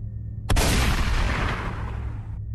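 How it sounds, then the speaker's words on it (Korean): A single loud gunshot sound effect in a horror story narration bursts sharply, then a long rumbling echo decays over about two seconds, alone without speech. "그 순간 총성이 한 발 울리고"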